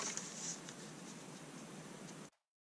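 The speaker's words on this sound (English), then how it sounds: "I'm going to cut this quickly and adhere it on the card base." Quiet steady scraping of a blade or trimmer cutting cardstock for a card mat, a continuous papery rasp lasting about two seconds before stopping abruptly, no voices.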